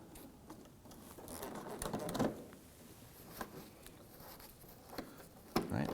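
Small 7mm screws are loosened and removed from the front bumper of a 2008-2011 Ford Focus, giving close, faint ratcheting and scraping clicks in irregular bursts with a few sharper knocks.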